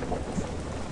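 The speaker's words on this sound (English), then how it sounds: "It's raining!" Steady rain hisses in a video game, a dense, even wash of drops with low rumbling underneath, continuous and moderately loud with no voices.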